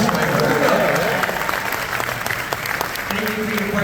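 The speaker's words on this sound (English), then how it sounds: "let's not forget, guys, you can cheer for this." A convention panel audience bursts into loud, sustained applause and cheering that fills the room, with scattered voices mixed into the crowd noise before the clapping begins to fade.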